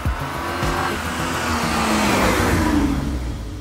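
A 1987 Mercedes-Benz S124 E-class AMG wagon with a six-liter engine, revving loud and close in a sustained, rising roar with a tire-squeal-like edge, no voices.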